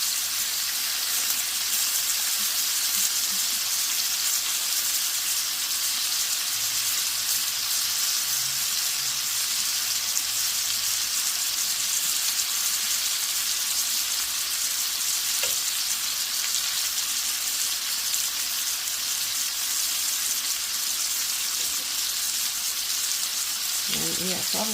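Chicken breasts fry in butter in a pan for an Italian garlic chicken, giving a steady, close sizzle of constant hiss that runs the whole time, with a few faint clinks and brief stirring sounds mixed in.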